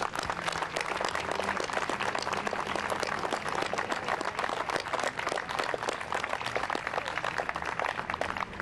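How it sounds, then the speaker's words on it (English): Audience applause at a memorial dedication for the Revere Women Veterans World War II monument, sustained dense clapping from a standing crowd, steady and fairly close throughout. "could you stand now and let us all give applause for one last time?"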